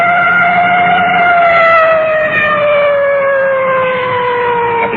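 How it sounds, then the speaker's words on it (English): A loud wailing police car siren from 1954 sweeps steadily up and down close by at a large intersection, with traffic rumbling faintly underneath. "you can hear that full treatment on the siren."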